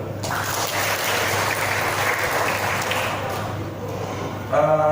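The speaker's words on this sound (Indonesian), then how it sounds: "Tepuk tangan buat ojol itu." Steady applause from a crowd fills the room, a dense wash of clapping that holds evenly for several seconds before a voice begins.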